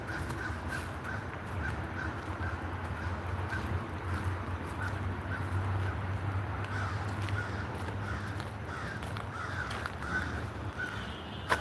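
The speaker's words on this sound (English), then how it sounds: "there's something going on with those birds over there, those crows" Crows caw repeatedly at a distance near a river in Berrien Springs, Michigan, over a steady low rumble of outdoor background noise, with no voices.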